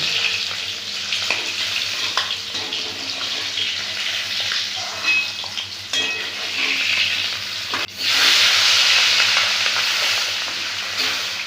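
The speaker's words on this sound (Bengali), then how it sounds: "এইভাবে সব মাছগুলো ভেজে নেব" Pieces of rohu fish fry in hot oil for a home-style Bengali tomato rohu dish, a steady close sizzle and crackle running throughout with occasional stirring clinks and a louder burst of spitting near the end.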